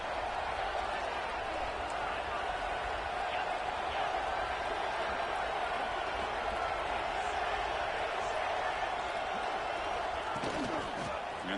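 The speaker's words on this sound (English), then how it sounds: "This crowd is trying to inspire this defense to make a big red zone stop." A stadium crowd roars during a Miami vs Virginia Tech college football game as the defense faces a red zone stand. The dense, loud roar holds steady and unbroken from start to finish.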